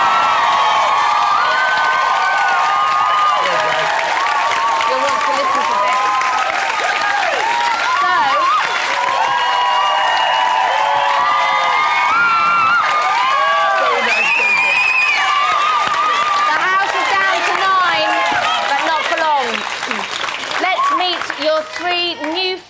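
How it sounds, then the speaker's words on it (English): A Big Brother studio audience erupts in applause and cheering, with shrill whoops and screams layered over steady clapping throughout. The noise is loud and sustained and eases slightly near the end. "Ladies and gentlemen, big round of applause,"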